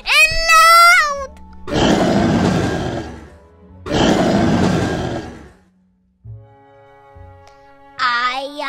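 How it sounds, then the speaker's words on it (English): A loud dragon roar sound effect in a children's witch-and-broomstick tale, two long rumbling roars of about two seconds each, with brief high animated calls before and after and quieter tones in between. "the witch heard the roar that was scary and loud"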